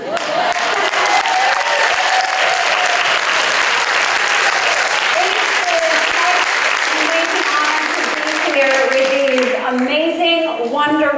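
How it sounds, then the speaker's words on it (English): Audience at a Wonder Women celebration gala gives the honorees sustained, loud applause, a dense wash of clapping filling the whole stretch while music with a sung melody plays underneath. "Please give them one more round of applause."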